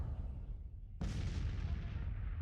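Artillery fire in the Civil War strategy game Grand Tactician: The Civil War, heard as a sudden heavy boom about a second in that rolls into a sustained, fairly faint rumble with no one speaking over it.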